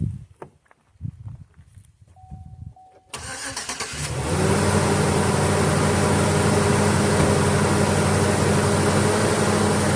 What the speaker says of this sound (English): So let's fire this up, see how it sounds now.